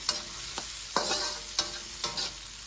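Ingredients being sautéed in a pan until slightly wilted, with a steady soft sizzle and periodic scraping stirs of a utensil against the pan, close and moderately loud, with no voices.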